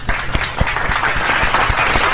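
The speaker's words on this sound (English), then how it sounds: "Hey, clap it up for Ice-T." Clapping for Ice-T during a Def Jam Fight for NY wrestling video game session, a steady burst of applause with distinct thumping claps in a fairly quick rhythm.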